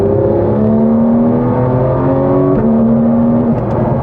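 Porsche 911 GT3 with its PDK gearbox in sport mode pulls hard from inside the cabin, the engine note climbing steadily with a quick upshift near two and a half seconds and another near three and a half.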